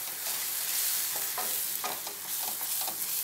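Ground onion-tomato masala for paneer butter masala gets stirred in a pan, a steady frying hiss punctuated by a series of soft scraping strokes from a spoon, close and moderately loud, with no one talking.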